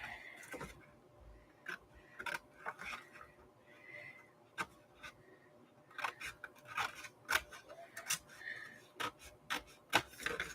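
Scissors cut paper into journaling cards, making soft, close snips and rustles in irregular bursts that grow busier toward the end. The cutting is quiet and no one speaks.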